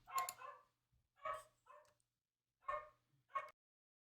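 A dog barks in short bursts, four or five sharp barks with pauses between, fairly quiet and clean against silence.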